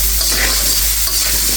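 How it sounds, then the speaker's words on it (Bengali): Potatoes stirred and frying in a pan with oil, a steady close sizzle with soft spatula scrapes running throughout, no voices. "আলুটা একটু নেড়ে ছেড়ে ভেজে নিচ্ছি"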